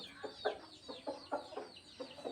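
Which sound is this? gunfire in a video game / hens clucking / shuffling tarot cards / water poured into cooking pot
hens clucking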